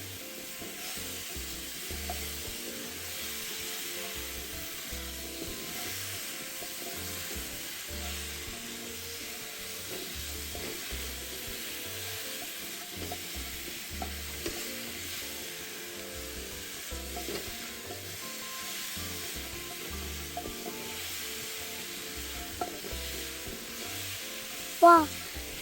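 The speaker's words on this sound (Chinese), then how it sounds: "繼續翻炒約1分鐘，炒至香味散發出來" Taro and tapioca stir-fried with garlic and five-spice in a pan, a continuous low sizzle with scattered scraping and tapping of a spatula over nearly half a minute, fairly quiet, ending with a louder knock.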